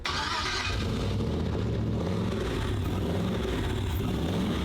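A car engine that has seen repeated burnout competitions cranks to life and then settles into a loud, rough running rumble with some revving, close by and without speech.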